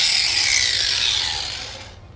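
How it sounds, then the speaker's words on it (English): A flap wheel grinds a metal part with a loud, hissing abrasive whine that is already running at the start. It tapers off and fades out over about two seconds, close by and with no speech. "Now just give it a quick clean up with the flap wheel."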